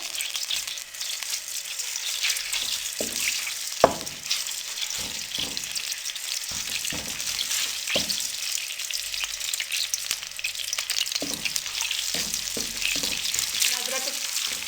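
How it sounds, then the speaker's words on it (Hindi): Steady crackling sizzle of ginger garlic paste frying in hot oil, with occasional scrapes and stirs from a utensil, close and continuous throughout. "अदरक और लहसुन के पेस्ट को हम 1 से 2 मिनट के लिए फ्राई करेंगे।"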